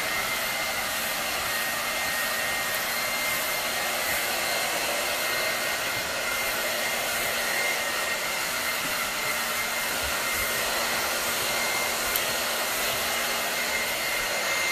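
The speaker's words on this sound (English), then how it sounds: "Keeping the airflow down and just loosely following the brush with the blow dryer." A blow dryer runs steadily through a haircut, following a brush through the hair with the airflow kept low; it gives one constant, unbroken whoosh with no talk.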